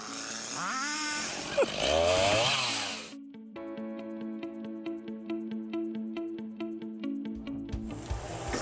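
A Malwa 560H timber harvester's saw head cuts through trees on Swedish moorland, a loud buzzing chainsaw whine that drops out abruptly, followed by a steady rhythmic mechanical clatter of the machine feeding the log.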